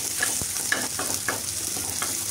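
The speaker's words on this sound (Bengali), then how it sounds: "এই তো পেঁয়াজ মরিচগুলো প্রায় ভাজা হয়ে গেছে।" Onions and chilies frying in oil with garlic, a steady close sizzle with soft spatula scrapes and stirs every half second or so, without any talking.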